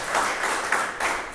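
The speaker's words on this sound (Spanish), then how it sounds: "denle un aplauso al Señor Jesús" A church congregation applauding together, a dense, steady wash of many hands clapping at moderate volume with small swells, no talk over it.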